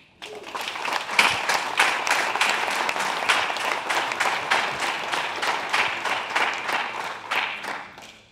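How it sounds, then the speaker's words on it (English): Sustained audience applause after a Microsoft conference talk at OPC Day, a dense, steady wash of many hands clapping that swells early and holds for several seconds before tapering off. "So this long applause was a wow, right?"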